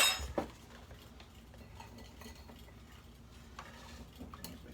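A spoon stirs and scrapes oatmeal raisin cookie mix inside a glass jar, giving faint, soft clinks and scraping, with a louder knock at the start and quiet rattles continuing throughout.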